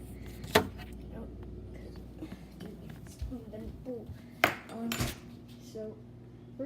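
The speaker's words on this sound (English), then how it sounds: "There's this dirty spoon. I'm gonna take it out." A dirty spoon being pulled from a fridge, with a few sharp metallic clinks and knocks of cutlery against dishes standing out from a quiet room, mixed with low talking.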